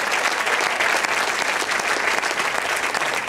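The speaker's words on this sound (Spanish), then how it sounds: "Dale un aplauso al Señor." Dense, steady applause from a church congregation during a sermon, filling the space evenly and loudly from start to finish with no speech over it.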